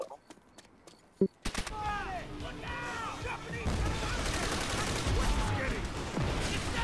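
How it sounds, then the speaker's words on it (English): Machine-gun fire in a video game: rapid bursts of shots and clatter that start after a quiet opening and build into dense, continuous firing, with someone talking excitedly over it. "Machine, machine gun's firing by itself."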